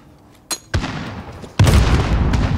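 Modern Warfare gunfire arrives as a few separate loud blasts: a sharp crack, a booming shot, then a heavier burst that keeps rumbling and echoing, nearby and without talk.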